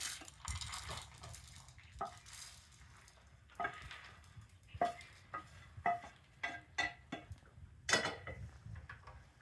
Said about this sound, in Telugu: చక్కగా మాడిపోకుండా ఈ కలర్లో వేయించుకోవాలి